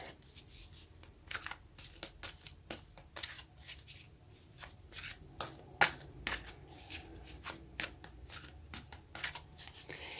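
Oracle cards are shuffled by hand in a quiet room, giving a steady run of soft papery riffles and taps at close range with no talking.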